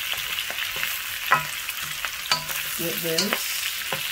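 Peppers, scallion and onion frying in a pan, with a steady sizzle under clinks and scrapes of stirring, plus a brief spoken phrase.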